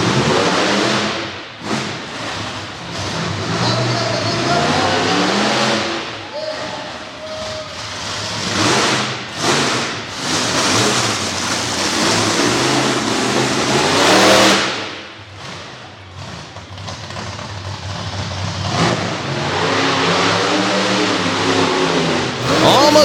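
A race vehicle making a run on a dirt track, its engine revving hard and loud throughout, rising and falling as it accelerates and backs off, with a brief dip midway.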